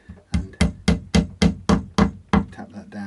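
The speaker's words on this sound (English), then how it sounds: "then I'm going to get my little fretting hammer and" A small fretting hammer taps a piece into an electric guitar neck joint, giving about nine sharp, evenly spaced knocks at close range with no voices.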